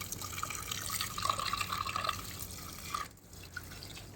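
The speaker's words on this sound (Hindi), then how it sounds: "तो सब में पानी दे देती हूँ।" Water poured onto potted plants on a hot morning, a steady trickling splash with dripping, fairly quiet and close, briefly thinning near the end.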